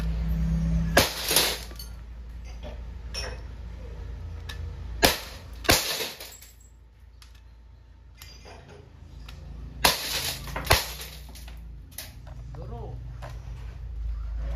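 An Umarex Glock 17 Gen 5 CO2 airgun fires 4.5mm BBs in sharp, close snaps, several shots in quick pairs spread across the clip, with a voice talking between them.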